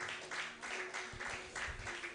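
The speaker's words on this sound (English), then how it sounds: "You can actually clap till he gets to his seat." An audience at a social media week event applauding as a guest walks back to his seat, with a steady wash of clapping from many hands that is moderately faint and diffuse across the room.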